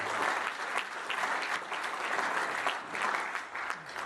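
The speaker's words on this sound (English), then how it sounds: "give yourselves a round of applause" Sustained audience applause at a political rally in a county campaign event, dense steady clapping from many hands filling the room, loud and continuous without pause.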